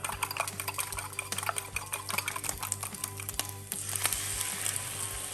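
Beaten egg mixture for a weekly meal-prep batch sizzles steadily in a hot pan, with a continuous frying hiss and frequent scraping and clinking of a utensil against the pan as it is stirred, close and fairly loud, no talking.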